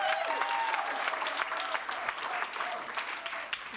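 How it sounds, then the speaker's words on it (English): Audience applause at a tech industry talk as a speaker is welcomed to the stage: steady, moderately loud clapping from a large crowd, with a few faint voices and whoops mixed in. "So give her a round of applause."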